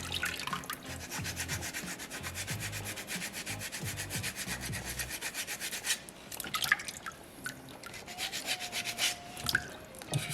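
Sandpaper rubs against a small soapstone polar bear carving in quick, even back-and-forth strokes, close and fairly quiet, pausing briefly midway before resuming with shorter, scattered scrapes.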